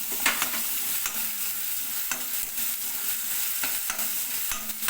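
Homemade hand-ground ginger paste frying with masala over a low flame, giving a steady soft sizzle with scattered stirring scrapes and small crackles throughout.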